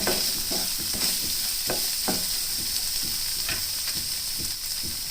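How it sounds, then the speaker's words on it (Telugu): Tomatoes with onion and green chilli frying in a pan give off a steady, dense sizzle, broken by repeated scraping strokes of a spoon stirring them. "టమాటో మగ్గే వరకు కలియపెడుతూ ఉందాము"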